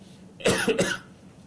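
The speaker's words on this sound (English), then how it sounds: "forgive my coughing" A single rough cough in two quick bursts, close and fairly loud, with quiet before and after.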